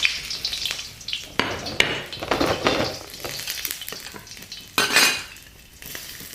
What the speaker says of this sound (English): Again, smoking hot wok, oil in. Rinse around. A bit of spring onion stems.